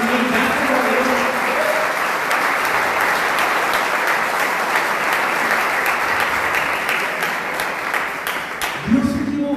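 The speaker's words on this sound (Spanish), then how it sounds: "Un aplauso bien a Dios" A church congregation claps loudly and continuously for several seconds, dense sustained applause filling the room before a voice returns at the very end.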